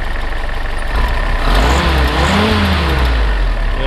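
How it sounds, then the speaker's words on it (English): A 1948 Willys CJ2A Jeep, converted to Navy Shore Patrol M38 style, revs from a steady idle to a brief rising climb and settles back, loud and close with a low rumble. "So go ahead and rev it up just a little bit."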